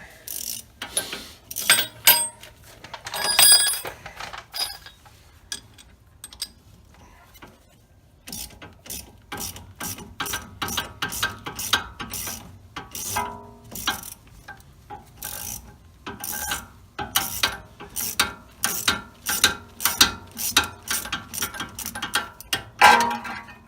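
A ratchet clicks in quick rapid bursts while turning a bolt during an H&R spring install on an Audi S4, the close metallic ticking broken by a short pause before resuming steadily.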